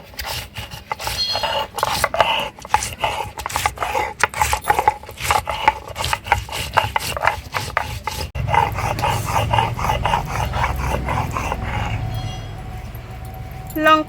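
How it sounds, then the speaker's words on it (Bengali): Green and dry chillies ground together on a grinding stone in a village kitchen, with rhythmic rasping strokes that turn into a steadier rubbing grind, close up, while a person talks over part of it. "এবারে কাঁচা লঙ্কা আর শুকনো লঙ্কা একসাথে বেটে নেব।"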